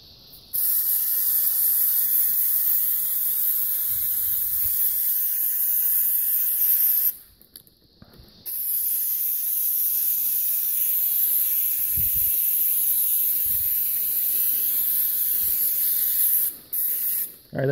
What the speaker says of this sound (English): I'm gonna spray this whole thing down with brake cleaner.